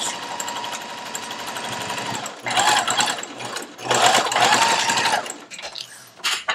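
A sewing machine stitches pieces of a fabric face mask, its steady rapid motor whir running close and loud in continuous bursts with short pauses between seams.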